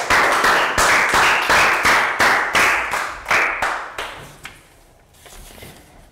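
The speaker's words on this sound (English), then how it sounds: "Round of applause." A class of young pupils in a health education lesson gives a round of applause, about a dozen sharp, rhythmic claps close by that slow and fade out toward the end.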